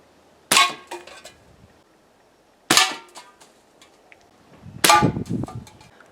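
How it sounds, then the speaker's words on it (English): A pumped Crosman American Classic pellet gun fires three times at a can outdoors, each shot a sharp crack with a metallic ping, spaced about two seconds apart with quiet between. "that last shot you would have just seen was 7 pumps on this little guy, and it still didn't actually put a hole in that can"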